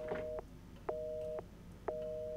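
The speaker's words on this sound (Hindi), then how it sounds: "एक मिनट, फ़ोन की आवाज़ आ रही है" Phone busy signal from the Resident Evil 7 video game: three steady, evenly spaced tones separated by short gaps, faint and clean with no talking over them.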